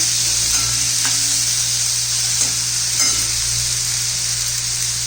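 Green peas and chopped tomato fry for spicy Maharashtrian brinjal bharit with a loud, steady, close sizzle. A few faint stirring scrapes sound in the pan.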